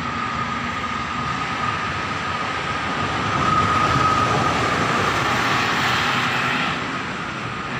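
Setia Negara passenger train passes at speed with a sustained rumbling roar and a faint high tone, swelling as it goes by and fading slightly at the end.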